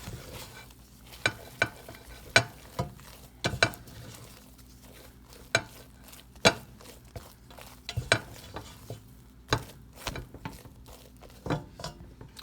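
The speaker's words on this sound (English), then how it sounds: "See, let's give it a mix. See how that marshmallow is starting to melt?" Spoon stirring a melting marshmallow mixture in a pot for kosher Rice Krispie treats, a steady series of soft scraping knocks and sticky clacks, close and moderately quiet, with no talk.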